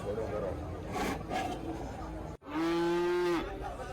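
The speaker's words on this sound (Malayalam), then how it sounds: "നല്ലൊരു കാളക്കുട്ടിയാണ്, വളർത്താൻ പറ്റിയ നല്ലൊരു കാളക്കുട്ടി" A young bull calf at a cattle market in Manjeri lets out one loud, close, drawn-out moo lasting about a second, following a stretch of crowd chatter and background market noise.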